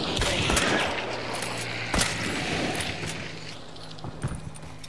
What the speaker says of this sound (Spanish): Se escuchó el tiro.